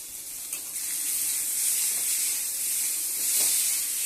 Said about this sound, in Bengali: আলুটা আগে ভেজে নেব বন্ধুরা লাল লাল করে ভেজে নেব